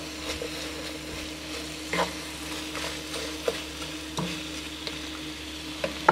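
Onions fry softly in a goulash pot, a low steady sizzle with occasional sharper knocks and scrapes of a utensil stirring, fairly quiet and close, no talking.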